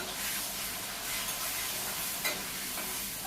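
Potatoes frying in a pan with salt and turmeric, a steady soft sizzle and crackle with faint stirring scrapes, moderately quiet and continuous with no talking.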